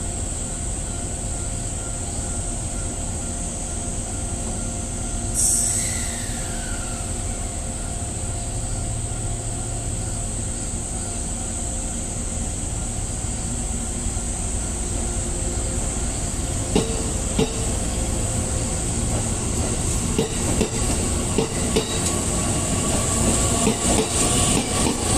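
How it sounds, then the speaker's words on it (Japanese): An E501 series commuter train pulling out of a station, a steady electric motor whine over rumbling wheels, with a sharp rising squeal early on and clattering rail clicks building toward the end, no speech. "山線下り普通列車いわき行きが発車します。"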